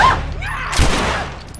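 Gunfire in The Last of Us erupts as a burst of booming, echoing shots and a heavy thump, loud and close within the game's tense soundscape.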